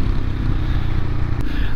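A Royal Enfield Himalayan petrol motorcycle rides along, giving a loud, close, continuous engine rumble mixed with road and wind noise over a short stretch.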